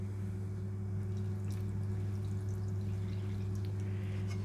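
Water poured into a bowl of walnut bread ingredients, a soft, steady trickle and splash, quiet and close, sitting over a constant low electrical hum, with no speech.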